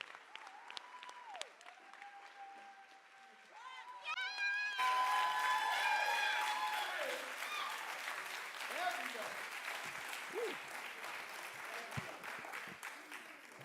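Audience at a Chicago poet laureate celebration gives a standing ovation: sparse early claps and cheers swell into loud, dense applause and whoops, holding steady, with voices calling out amid the crowd.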